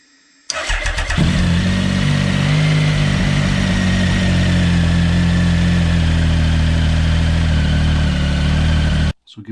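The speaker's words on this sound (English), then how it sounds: "now we want to start the engine, leave it run for a little while, let the oil circulate" A Triumph Speed Triple motorcycle engine starts and settles into a steady, loud idle, running continuously with a low rumbling drone before cutting off at the end.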